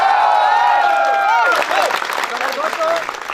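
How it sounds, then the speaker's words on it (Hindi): Applause and cheering from an audience at a motivational achievement event, a burst of clapping that swells in after a sustained tonal sound and continues loud and busy to the end. "एक बार जोरदार तालियां।"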